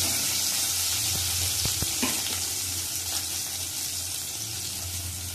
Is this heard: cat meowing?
no